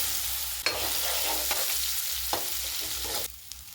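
Soybean chunks fry in hot oil in a wok, a loud steady sizzle with a few sharp stirring scrapes, and the sizzle drops away abruptly near the end.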